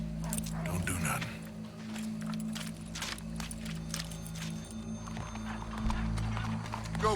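Horse hooves clip-clopping in the Red Dead Redemption 2 video game, a steady run of close, rhythmic hoof strikes over a low ambient drone, with some voices in the background.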